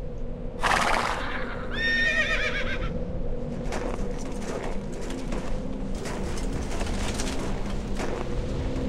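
Horses in a World of Warcraft scene: a loud whinny rings out near the start, then a second neigh, over a steady bed of hoof clatter, with birds cooing faintly in the background.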